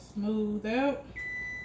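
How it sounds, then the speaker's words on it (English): A kitchen oven signals it has finished preheating with a steady electronic tone that holds for about half a second, just after a voice speaks. "That's my oven preheating right there, that sound."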